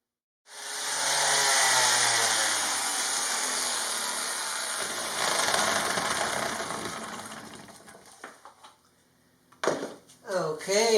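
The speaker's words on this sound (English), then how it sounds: "Okay, I sanded it smooth. Started with 80 grit, 120 and 220" A power sander runs steadily against a wooden fold-down table, starting abruptly with a loud, continuous buzzing whine that shifts slightly in pitch, then winds down and stops before a person begins talking.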